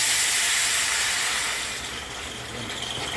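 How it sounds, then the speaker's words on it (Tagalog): Steady hiss and rumbling bubble of water boiling in a cooking pot, having come to a boil quickly after hot water was added, close and continuous with no voices, easing slightly partway through. "Kumukulo. Pero kasi nilagyan natin ng tubig na init. Kulo siya agad."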